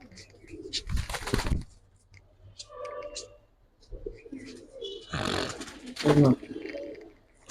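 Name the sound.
pigeons cooing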